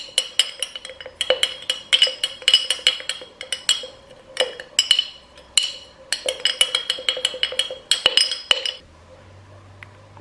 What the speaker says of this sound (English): And now you just want to mix all these ingredients.